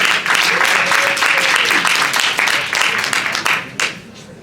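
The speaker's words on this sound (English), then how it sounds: "Let's give Miss Tiffany a round of applause." Close, lively applause and scattered clapping from a small audience at a community haircare event, starting abruptly, then thinning into a few separate claps before fading, with brief voices mixed in.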